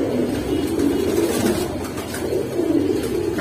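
Giribaz and pangkhi pigeons coo steadily in a continuous low, throaty murmur, close and moderately loud, with no talking.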